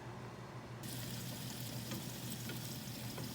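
Chicken longanisa frying in a little oil in a pan, a steady hiss that swells from a low crackle into a loud, continuous sizzle, close by with no talking.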